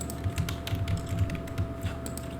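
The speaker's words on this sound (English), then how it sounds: "See if you can still type" Typing on a computer keyboard in the video game The Stanley Parable, a short run of rapid, soft key clicks close by over a steady low hum, with no voices.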